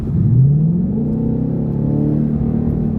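A 2020 Ford Mustang California Special GT accelerating on the road, its engine note a loud, close, rising drone with layered harmonics climbing steadily throughout, alone without talk.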